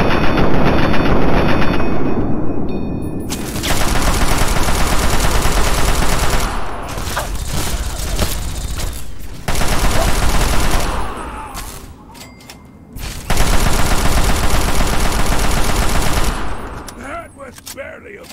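Sustained, loud automatic gunfire from a companion's weapon in Fallout 3, near and dense in long bursts broken by brief pauses and cutoffs.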